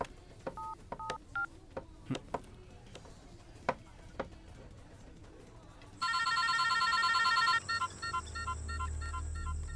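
A phone's keypad clicks several times, then steady dialing tones beep for a couple of seconds, followed by a low rumble.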